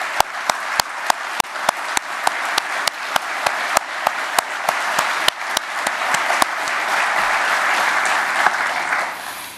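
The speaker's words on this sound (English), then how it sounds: "please join me in a final round of applause for the 2024 Secretary of Defense Employer Support Freedom Award recipients" Sustained audience applause for the 2024 Secretary of Defense Employer Support Freedom Award recipients at a US government ceremony, a dense steady clapping crowd holding loud for about ten seconds and easing slightly toward the end.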